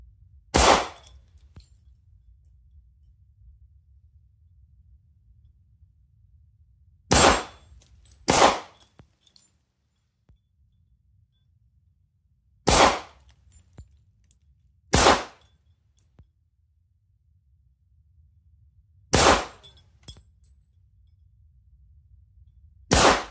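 A Kimber Ultra Carry II pistol loaded with Wilson Combat magazines fires six sharp, loud shots spread out over the stretch, some in quick pairs, with quiet gaps in between and no talk.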